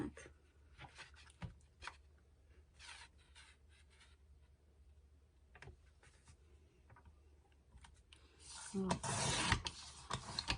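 Card paper is cut from an A4 sheet with a blade or trimmer, giving sparse, close rubbing and scraping strokes and small clicks, ending in a louder burst of rustling and sliding near the end.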